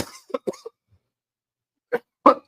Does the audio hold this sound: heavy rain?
no